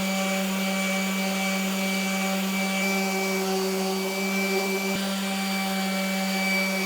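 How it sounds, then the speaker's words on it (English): A power sander on wood, connected to a vacuum for dust extraction, runs as a steady, even machine whine and hum with a constant drone, close and unbroken, no voices. "I have it hooked up to the vacuum. I will use my ear protectors and now we sand."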